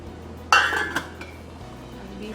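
A metal spoon knocks sharply against a pot as white vinegar is stirred into milk, giving one bright clink followed by a few softer taps and faint scraping that fade quickly.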